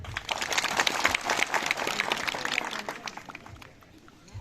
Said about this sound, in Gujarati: આપ સૌ માટે એક જબરજસ્ત તાળીઓ થઈ જાય